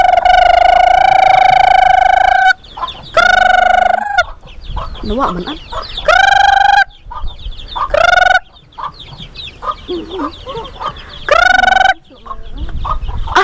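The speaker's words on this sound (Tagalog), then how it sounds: "Tatawagin lang namin yung manok nito lang dito." Farmyard chickens and a rooster on a sunny countryside smallholding in the Philippines cluck repeatedly while the rooster gives several loud, close crows, with brief bits of talk between them.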